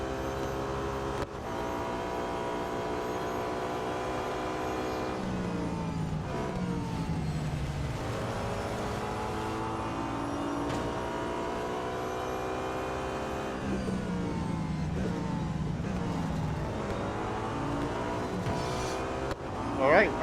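A 2012 Audi A5 DTM race car in the Real Racing 3 game drones with a steady engine note that climbs and falls through gear changes and revs across twenty seconds, continuous and fairly loud.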